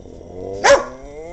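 A dog barks once in a snowstorm, a single sharp close bark rising briefly over quiet outdoor background.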